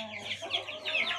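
A silky hen gives a few soft, close clucks in a short burst with some faint background noise.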